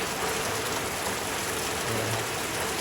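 Heavy rain pours down during a midday October downpour in rural Thailand, a dense, steady, even hiss that fills the whole stretch without pause, with no voices.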